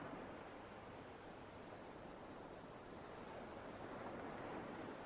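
Ocean surf rolling in a steady, broad wash of noise, continuous and soft without distinct breaks, no voices.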